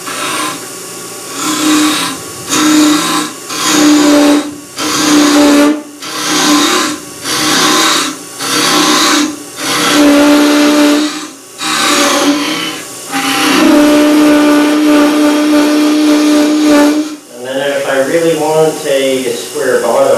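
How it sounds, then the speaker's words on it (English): A round scraper working the inside of a turned wooden box on a wood lathe during a club demo gives a steady rasping scrape in repeated passes of a few seconds each, loud and close, with the spinning lathe humming underneath. "I always start off with a round scraper"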